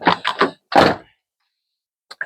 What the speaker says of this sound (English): Closes the door up.